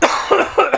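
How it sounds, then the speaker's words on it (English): Several short, harsh coughs in quick succession, close and fairly loud, with brief gaps between bursts. "still have this cough"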